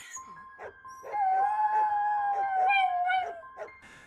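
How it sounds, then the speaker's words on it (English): A dog howls in a long, wavering, rising-and-falling tone lasting several seconds, fairly close and clear, with softer dog whines around it and no talking over it. "Less than an hour later, Bailey began howling"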